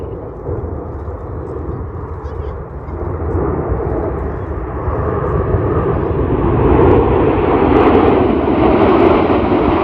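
Red Arrows jets sweep past during an air show display at Old Buckenham, a broad rushing engine roar that swells steadily louder and nearer over the ten seconds, continuous with no breaks.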